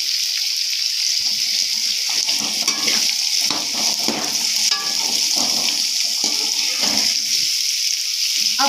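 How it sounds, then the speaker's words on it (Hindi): Mixed vegetables frying in oil with tomatoes in a home kitchen pot for pulao, giving a steady close sizzle with occasional stirring scrapes throughout, no talking. "अब ऑयल और टमाटर के साथ हम इस सब्जियों को थोड़ा सा फ्राई करेंगे"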